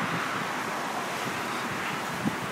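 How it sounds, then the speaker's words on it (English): The Connecticut River running high and muddy, a steady broad rushing roar close by, with wind buffeting the microphone and no speech. "Look at the river roaring."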